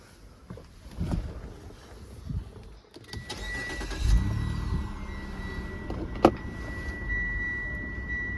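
A 2013 Mitsubishi Outlander seven-seater's engine cranks and catches after a few quiet seconds, then settles into a steady low idle with a brief sharp click near the end.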